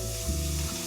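Mushrooms dropping into a hot pan give off a brief, steady sizzle and hiss, close up, with a low hum and some tonal background sound beneath it.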